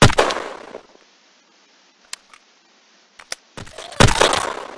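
Gunfire in the video game Shell Shockers comes as sharp, loud cracks, a burst at the start, scattered single snaps in the middle and a heavier volley at the end.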